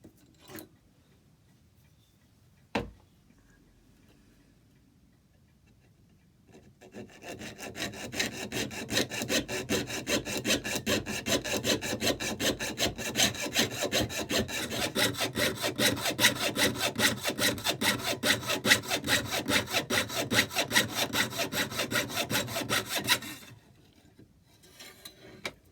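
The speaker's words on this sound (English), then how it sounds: "So I've marked out a piece of steel with layout blue and marked the shape out, and I've just started fretting it out." A fret saw cuts through a piece of steel for an antique clock cupboard lock, a fast, steady rasping stroke rhythm that starts after a few quiet seconds with a couple of isolated knocks and runs on close and loud before stopping.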